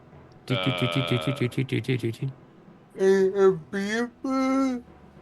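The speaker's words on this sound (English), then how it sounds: "What's that beeping?" A quick run of about eight evenly spaced electronic beeps sounds up close, followed by a few longer tonal sounds that resemble voices.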